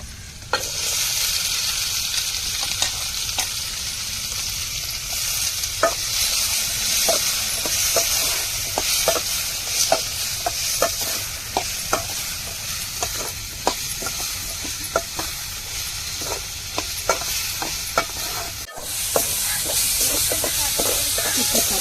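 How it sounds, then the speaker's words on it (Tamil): Small onions, tomato and chili sautéing in a pan for a roasted brinjal dish, with a steady close sizzle and frequent sharp clicks of stirring throughout, no talking. "இப்போ சின்ன வெங்காயம் தக்காளி மிளகாய் இது நல்லா வதங்கணுங்க"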